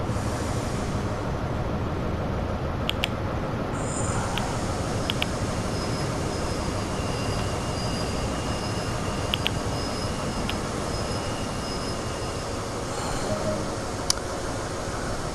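A Class 43 high-speed train in Train Sim World coasts and brakes to a stop, a steady low rumble and rolling noise running throughout with faint squeals and a few brief clicks, no talk.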